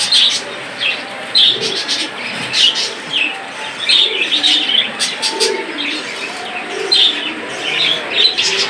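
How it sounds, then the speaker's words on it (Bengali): A pair of Australian doves, a male and a female, coo repeatedly in soft rounded calls over a steady texture of chirps from other birds close by, with no speech. "এখানে রয়েছে একজোড়া অস্ট্রেলিয়া ঘুঘু, উপরেটা মেল আর নিচেটা ফিমেল দেখতে পাচ্ছেন।"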